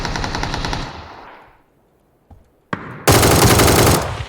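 Rapid bursts of automatic gunfire in PUBG, a sustained rattle, then a lull with a couple of single shots before another loud, dense volley close by.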